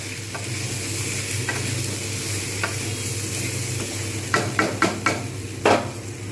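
Roasted ground spices (coriander, cumin, chili, garam masala) stirred into a frying pumpkin, potato and pointed gourd curry: steady sizzle throughout with several scraping spoon strokes against the pan, clustering near the end.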